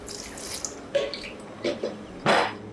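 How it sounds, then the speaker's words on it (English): Water splashes and gurgles in short bursts as it is poured into a blender holding chopped tomatoes and onions for a Ghanaian cocoyam leaf stew, with a louder pour near the end. "So we'll add some water"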